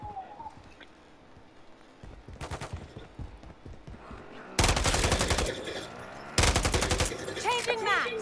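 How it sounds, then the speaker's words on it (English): Gunfire in Call of Duty: Modern Warfare III comes as a brief volley near 2.5 seconds, then two loud sustained automatic bursts later on, over low in-game ambience. "I just got shot at."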